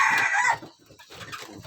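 Free-range village chickens on a farm, with a burst of loud clucking or crowing at the start, then softer scattered clucks and bird calls continuing nearby.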